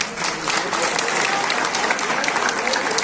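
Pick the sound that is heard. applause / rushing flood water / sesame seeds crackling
applause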